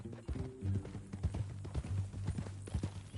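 Horse hooves clip-clop at a steady walking rhythm in the Red Dead Redemption 2 video game, close and distinct, with a low tonal hum beneath and no talking.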